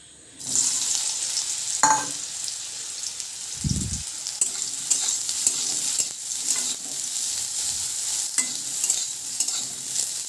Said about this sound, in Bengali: তেলটা গরম হয়ে গেছে এখন আমি সোয়াবিনটা ভেজে নিই